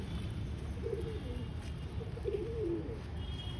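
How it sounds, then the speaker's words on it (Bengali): Soft low cooing from a pigeon in a backyard loft at dusk, two murmured phrases under steady background hiss, no talking. "আয়, পায়রা দেখিয়ে দিই ভালো করে"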